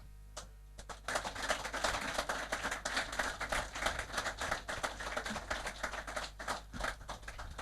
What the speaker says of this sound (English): Even the applause says it all